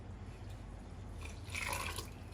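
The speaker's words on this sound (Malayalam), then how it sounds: "തണുത്ത വെള്ളം ഒഴിച്ചു കൊടുക്കാം." Cold water poured into a pot of rasgulla, a soft close trickle that swells into a brief fuller splash before easing, quiet over a low background hum.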